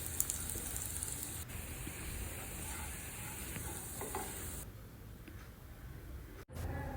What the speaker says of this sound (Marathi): दोन्ही साईडनी छान असं शॅलो फ्राय करून घ्यायचं